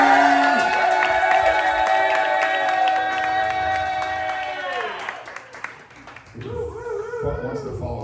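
Loud crowd cheering and applause for a comedian at an improv show in a taphouse, with whoops and shouting over steady clapping and music underneath, fading out after about five seconds before other sounds take over.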